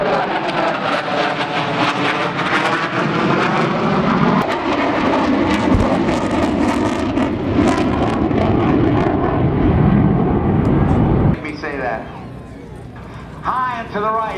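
F-14 Tomcat jets roar loudly overhead at a 2005 Naval Air Station Oceana airshow, a sustained, swelling engine rumble that holds for about eleven seconds before cutting off abruptly, leaving faint crowd and wind noise.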